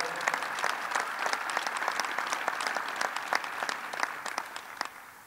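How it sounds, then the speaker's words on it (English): Steady crowd applause in a large arena honours a hockey team captain and players, a dense wash of many hands clapping at moderate distance, even and sustained with no talk over it. "Let's give the captain and the team a big round of applause."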